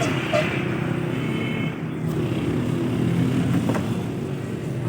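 A 2008 Suzuki Mehran car engine idling steadily at close range, a low even running drone with no talk over it.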